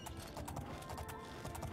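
Horse hooves clip-clop in steady, close, fairly loud steps in The Elder Scrolls IV: Oblivion, with a brief whinny-like tone and no speech over them.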